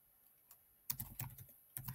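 Fingers type on a computer keyboard while entering a name in a software interface, a few faint isolated taps followed by two short bursts of quick, close keystrokes in a quiet room.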